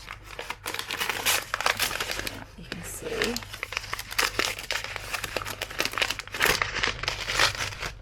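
Thick 300 GSM art paper in its wrapping crinkles and crackles steadily up close as the package is opened, with dense rustling throughout and someone speaking briefly over it.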